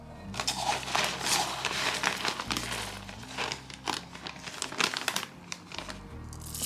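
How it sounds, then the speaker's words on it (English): Uncooked no-wash rice pours into a rice cooker pot, a close, continuous crinkling patter with uneven surges, fading and picking up again as the grains fall. "I'm going to dump the rice into my rice cooker"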